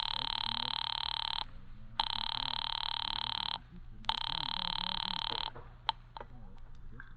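A telephone rings in three long, loud bursts separated by short gaps, an old-time radio drama effect, followed by a faint click and low background hum.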